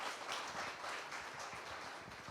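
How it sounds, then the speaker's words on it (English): Audience applause at a talk on India's new political landscape, a steady, dense wash of clapping across the whole moment, fairly faint and distant. "Huge round of applause, guys."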